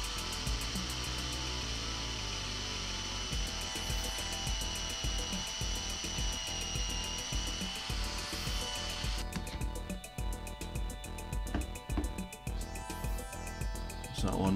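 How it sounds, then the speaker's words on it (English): A power drill bores a pocket hole into clamped timber, whining steadily with a rough, rhythmic grinding chatter as the bit cuts. The pitch shifts partway through, and the drill runs loud and close throughout. "just drilling my first hole for my pocket hole."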